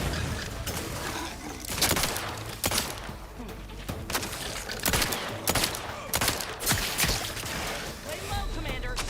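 Gunfire in The Outer Worlds 2, repeated sharp bursts of shots in an ongoing firefight, loud and close, mixed with talking voices.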